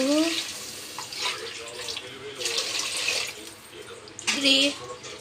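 Water is poured into a pot for biryani rice in several short splashing bursts with quieter gaps between, close to the microphone, and a brief voice-like sound at the start.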